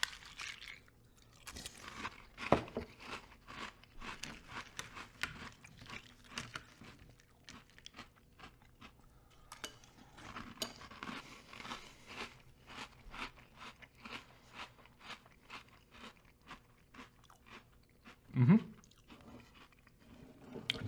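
Close, crisp crunching and chewing of a retro 80s-inspired General Mills cereal in milk, made of irregular bites with soft wet crackles and one louder crunch near the end, with no talk over it.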